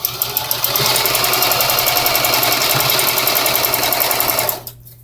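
A sewing machine runs loud and close, stitching a blue ribbon onto fringe in a continuous rapid mechanical chatter for over four seconds before stopping abruptly.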